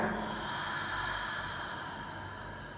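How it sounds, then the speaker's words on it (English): A slow, deep breath during a beginner yoga flow, a long, steady airy rush close to the microphone, quiet and gradually fading, with no talking. "start to deepen our breath"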